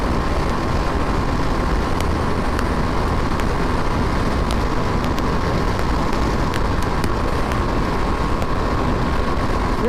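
BMW 310R motorcycle ridden at full throttle in fourth gear, a loud, steady engine drone mixed with heavy wind rush that stays constant throughout, with no talk.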